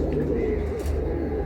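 Giribaj pigeons kept in a loft coo steadily in low, throaty repeated calls, close by and continuous, with no talk over them.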